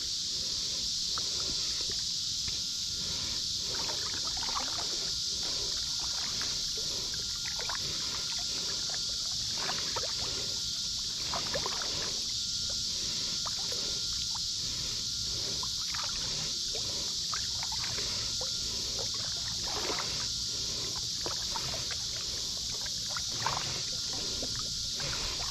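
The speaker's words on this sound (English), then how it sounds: "let's just try to paddle and see if we can feel that anchor grab" A Feelfree Lure 13.5 kayak is paddled steadily on open water, with repeated soft swishing paddle strokes over a constant hiss of wind and water.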